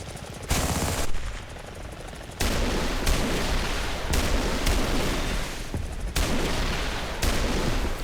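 Aircraft rocket pods firing in a combat flight game, repeated bursts of rapid loud firing separated by brief quieter gaps, dense and close with a steady engine roar beneath.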